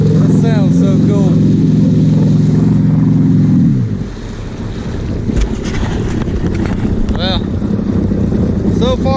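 A WaveBlaster 701 personal watercraft engine runs steadily and loud on the water for about four seconds, then drops away as if dying, leaving wind-buffeted noise and splashing; someone speaks briefly.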